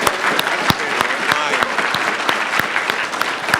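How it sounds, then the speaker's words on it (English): An audience claps steadily, a dense patter of applause with sharp individual claps standing out, while voices murmur underneath. "a big round of applause to everyone who came up here and answered our questions"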